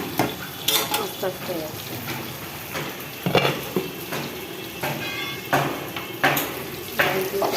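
Onion and green chillies frying in a pan, a steady low sizzle with scraping stirs and occasional utensil clinks against the pan, while someone talks over it.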